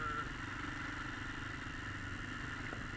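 An SWM 650 R motorcycle engine idles steadily with a low, even rumble and faint clatter, moderately distant and unbroken throughout.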